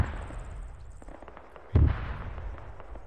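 A single mortar round fires in the field during the Soviet-Afghan War, a sharp low boom at mid-clip rising from a steady outdoor background, followed by a short fading rumble.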